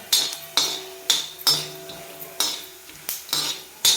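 Coriander seeds roasting dry in a pan, stirred with a metal spoon that clinks and scrapes against the pan in a regular series of sharp, close strikes about every half second, no voices.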